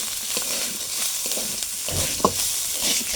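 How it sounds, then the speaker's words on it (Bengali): Chicken for egg roll filling fries in oil with a steady close hiss, and a few stirring scrapes and taps break through. "সামান্য একটু ফ্রাই হয়ে এসছে চিকেনটা"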